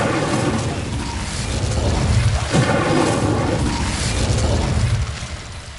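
Incendio fire spell cast in Hogwarts Legacy, a loud, sustained roaring whoosh of flame with a rumbling, thunder-like body lasting several seconds, swelling and then easing off.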